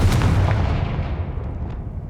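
A Confringo curse explodes in the video game Hogwarts Legacy: one sharp, booming blast up close that rolls off into a fading rumble over about two seconds.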